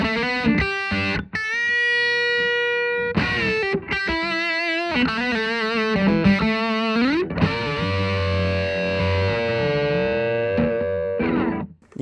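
Electric guitar run through an Ethos TWE-1 overdrive pedal, loud driven notes and bends with short breaks between phrases, ending in a sustained ringing chord, close and alone.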